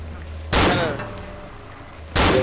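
Two loud, close gunshots in the horror game Cry of Fear, each a sharp blast with a ringing tail, spaced about a second and a half apart.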